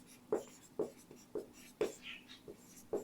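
A pen or pencil writes on paper during a physics lesson, making about seven faint, quick scratching strokes in an even rhythm over three seconds, close and quiet.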